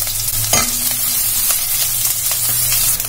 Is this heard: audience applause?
no